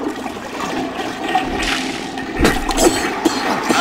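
A toilet flushes in the Bully video game, a loud rushing gush of water that swells midway and trickles on to the end, with no voices.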